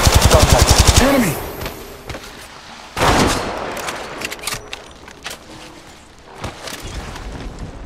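Apex Legends gunfire: a loud rapid automatic burst opens, followed by scattered single shots and sharp impact cracks at irregular intervals.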